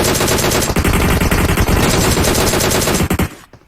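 Rapid automatic gunfire in the PUBG video game on the Livik map, loud dense bursts of shots filling nearly the whole stretch before cutting off at the end.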